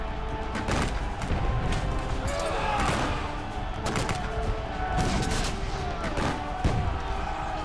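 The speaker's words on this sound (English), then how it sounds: "Bayonets clash and gunshots fire at point-blank range in hand-to-hand fighting." A War of 1812 battle is recreated in sound, with rapid gunshots at point-blank range and clashing bayonets in hand-to-hand fighting, thick and continuous throughout.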